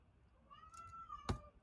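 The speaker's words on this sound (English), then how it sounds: "my cat doesn't like the equity gap. He's complaining about it" A single drawn-out cat meow, faint and indoors, ending in a short sharp click, with quiet room noise and no talking.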